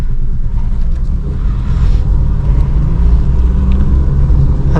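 A car crawls along a narrow, crowded market street under careful clutch control, its engine a steady low rumble heard from inside the cabin, continuous and fairly loud with no voices.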